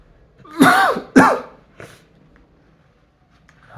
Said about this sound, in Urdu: صبح جو اٹھتے ہیں نا کھانسی لگ جاتی